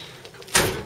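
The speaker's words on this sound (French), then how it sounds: "quand on ferme la porte comme ça" A single door shutting on a convertible utility van, a sharp thud with a brief rattling tail after a quiet moment, close to the microphone.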